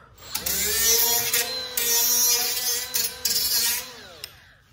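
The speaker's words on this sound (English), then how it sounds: "I'm gonna grind some of that up." An angle grinder cuts into a barn door frame, its high whine rising as it bites and easing off between passes, loud and close through a few short runs.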